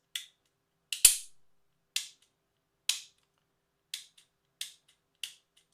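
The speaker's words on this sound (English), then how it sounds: "it's definitely a crunchy trigger" Repeated dry-fire trigger clicks from a cleared Smith & Wesson M&P Shield X pistol, seven or eight sharp, close metallic snaps at a steady pace with silence between them.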